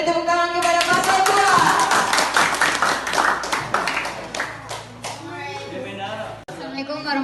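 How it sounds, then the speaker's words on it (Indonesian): Audience clapping at a high school event for a newly elected student candidate pair, a burst of quick claps mixed with overlapping voices and cheering, close and loud, tapering off as talk takes over. "dipersilakan kepada paslon yang terpilih agar maju ke depan. Beri tepuk tangan kepada paslon"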